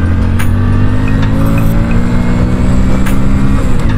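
A Hero Splendor Plus motorcycle engine pulls in second gear, a loud, close, steady drone with a gradually rising pitch and no break over a few seconds.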